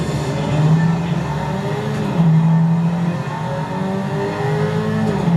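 A car in a video game drives on a new map, its engine revving loudly and continuously with rising and falling tones and a hint of tire squeal, with no speech.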